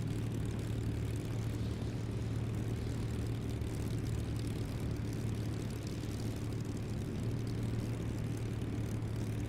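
A propeller airplane engine in a flight simulator game drones steadily and evenly at moderate volume, with no speech over it.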